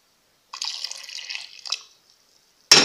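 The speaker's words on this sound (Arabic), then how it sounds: "ها هو غنزيد الماء السخون" Hot water is poured into a pot of traditional corn porridge, giving a close, bright splashing stream for about a second and a half, then a short quieter trickle, and a sudden louder splash right at the end.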